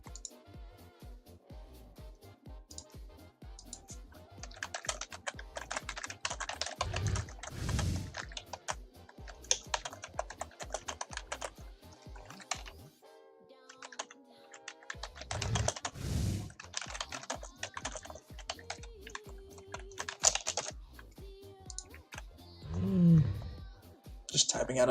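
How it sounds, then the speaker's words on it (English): Computer keyboard typing during a real-time game, a steady patter of key clicks running for the whole stretch, with voices and game sounds mixed in at moments. "Just typing out a quick message."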